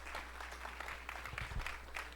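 An audience at an investor masterclass session applauds, a soft, steady spread of many hands clapping, heard at a distance over a low hum.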